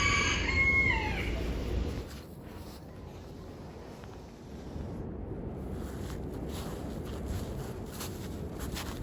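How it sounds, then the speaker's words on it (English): A rooster crows loudly in the first two seconds, its drawn-out call standing alone, before fading into a steady low outdoor rumble for the rest. "It was gonna say something before the rooster crowed."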